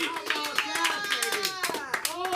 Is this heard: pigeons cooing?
no